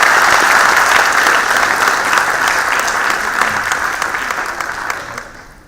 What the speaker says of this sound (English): I think we could have a louder applause for him,